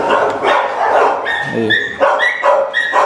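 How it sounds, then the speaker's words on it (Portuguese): Several dogs bark repeatedly near a gate where someone is knocking, with sharp overlapping barks and yips close by over steady background noise, and someone speaks briefly. "Tem gente batendo no portão, o cachorro tá latindo."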